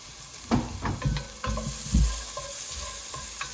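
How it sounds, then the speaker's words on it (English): Leftover bacon sizzles in a pot for Cajun red beans and rice, with a steady frying hiss under repeated scraping and knocking stirs of a utensil, close up and without talk. "First thing I'm going to put in is the bacon because it hadn't been cooked yet."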